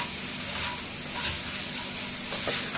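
Mee goreng noodles with sambal belacan are tossed and stirred in a hot pan, giving a continuous close sizzle with soft scraping and one brief metallic clink near the end, no voices.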